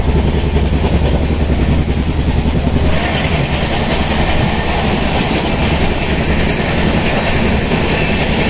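A passenger train runs at speed, heard loud from aboard as a constant deep rumble with rapid, rhythmic rattling and clacking of wheels on track, and no talking.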